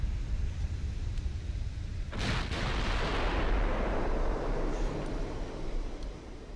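Heavy naval shells fire in Ultimate Admiral Dreadnoughts, a US super battleship battle, as a loud broadband boom around two seconds in that rolls off into a long rumbling decay over steady low background noise.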